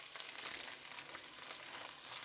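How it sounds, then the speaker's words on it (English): Thai basil chicken sizzles steadily in a hot pan while being stirred, a close, dense frying crackle with soft scraping strokes, no voices. "let's just give it a stir"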